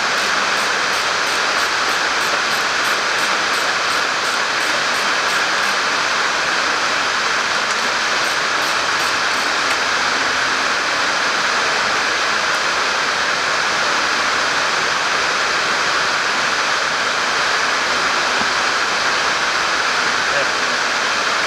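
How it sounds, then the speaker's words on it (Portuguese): Intense rain pounds the resonant metal roof of an auto repair shop during an oil drain on a BMW N46 engine, a steady, loud wash of noise lasting throughout. "vocês vão escutar um barulho de chuva muito intenso, que aqui na oficina agora tá chovendo bastante"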